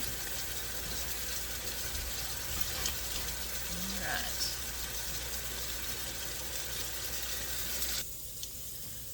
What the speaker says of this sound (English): let me turn my water off real quick.